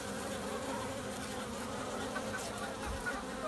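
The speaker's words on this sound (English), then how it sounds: "She's probably one of these bees flying." A dense, steady buzzing of many honeybees around a hive during swarming, close by, a continuous droning hum with no pauses.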